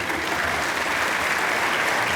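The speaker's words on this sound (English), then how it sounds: "If you'll stop clapping, I can get off stage" Dense, continuous applause fills a hall at a 2017 writers' awards ceremony, many hands clapping at an even volume for a couple of seconds without talk over it.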